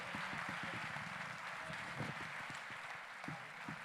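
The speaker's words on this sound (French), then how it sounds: "On peut vous applaudir très fort pour ces brillants exposés." Audience at a health and science forum applauds the speakers after their presentations, giving continuous moderate clapping that holds steady with a few distinct individual claps standing out.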